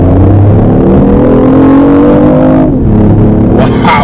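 BMW i8 hybrid sports car in sport mode, engine revving high and held at elevated RPM, a loud steady drone with rising harmonics that shift near the end, alone without talk.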